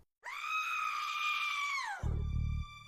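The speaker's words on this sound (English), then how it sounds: "a loud scream could be heard coming from upstairs" A loud, high scream rings out from upstairs in a haunted family home, sustained for nearly two seconds before breaking off into a deep, rumbling low thud.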